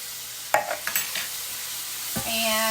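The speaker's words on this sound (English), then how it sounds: "And I'm just going to stir it around." Spam, hot dogs and sauerkraut sizzle in a hot pan as they are stirred, with a few close scraping clatters followed by a steady frying hiss that swells toward the end.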